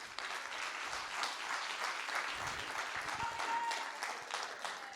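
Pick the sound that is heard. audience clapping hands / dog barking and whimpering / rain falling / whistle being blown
audience clapping hands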